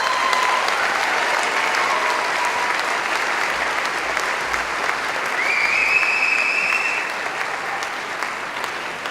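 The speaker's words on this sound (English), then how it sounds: "I think we have to give another round of applause" A large audience at a University of Arizona College of Architecture, Planning and Landscape Architecture event claps in a sustained, even roar, with a faint high whistle partway through.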